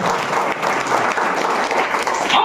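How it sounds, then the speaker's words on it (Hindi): A church congregation claps and applauds in a dense, continuous wash of hand claps, moderately loud and sustained throughout with no voices standing out. "एक बार ताली बजाने की कोशिश करें।"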